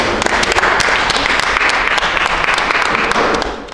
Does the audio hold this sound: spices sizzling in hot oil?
no